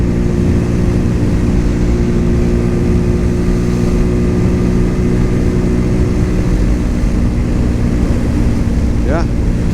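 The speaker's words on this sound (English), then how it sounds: "I'm going to be mindful how hard I run this bike." Cougar Vitacci XMT 250 motorcycle ridden during break-in on full synthetic oil, its engine a steady loud drone with constant wind rumble throughout, no speech heard.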